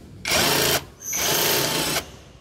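An impact gun drives a rear shock bolt on a Yamaha Mio 125i motorcycle in a repair shop. Two loud, close bursts of whirring and rattling come with a short pause between them, and no one speaks.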